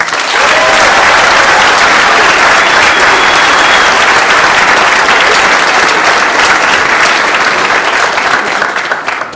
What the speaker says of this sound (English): a round of applause for all the book award winners